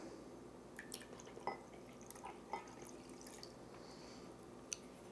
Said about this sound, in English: So next we are adding the water.